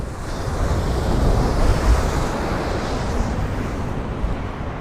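Rough sea waves crash against the harbour wall at Watchet, a loud continuous roar of surf and spray with gusty wind noise, no voices.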